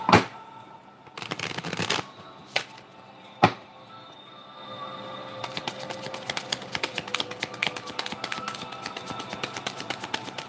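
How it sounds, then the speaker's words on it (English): A deck of oracle cards is shuffled in quick riffling bursts, with a few sharp taps early on and then a long run of rapid, crisp flutters. "let's shuffle the oracle deck"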